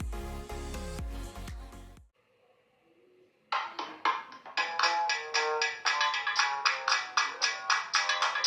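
Ringtone from the loudspeaker of an Advan G9 Perfecto phone at full volume, a rapid melodic phrase, a short pause, then a bright repeating chime pattern with steady plucked pulses, close and clear with no voices.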